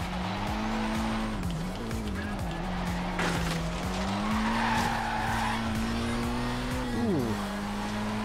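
A 1992 Alfa Romeo 155 Q4 in Forza Horizon 3 brakes hard with its tires skidding and squealing over a steady, loud engine note. The pitch wavers and then drops sharply near the end, and faint talk sits underneath.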